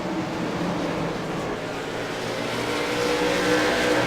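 Late model race cars roaring down the backstretch at Five Flags Speedway, a loud, continuous engine drone that swells slightly toward the end as the pack passes, with no voice over it.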